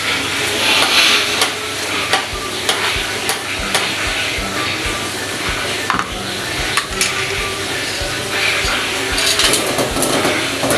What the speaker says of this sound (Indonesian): Lalu sambil diaduk-aduk sebentar.